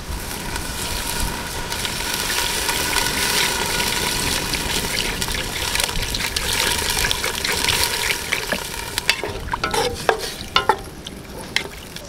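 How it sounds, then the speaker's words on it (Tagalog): Water running into a hot frying pan of cooking squid and pulutan snacks, a steady hissing sizzle and bubbling throughout, with a few sharper crackles and spatters near the end. "Lalagyan na natin itong mga kapulutan ng tubig agad."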